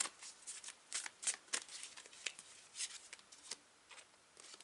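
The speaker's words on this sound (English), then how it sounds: "Let's do more shuffling." Tarot cards being shuffled by hand, a run of crisp riffling and sliding bursts in uneven rhythm, close and fairly quiet with no talk.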